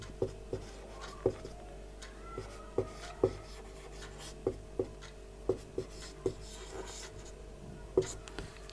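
A pen scratching out Bismillah by hand on a slate writing board, a dozen or so short, crisp strokes in an irregular rhythm, close and quiet against a faint background hum.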